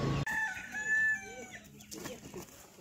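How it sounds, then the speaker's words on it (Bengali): Fighting cocks crowing and clucking during practice, one loud nearby crow followed by shorter clucks and calls in a quiet rural setting. "দুটি লড়াই করাস নাকি মুরগিগুলোকে?"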